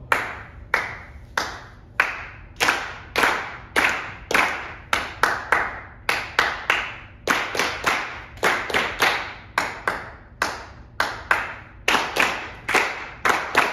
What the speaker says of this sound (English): we can do clapping games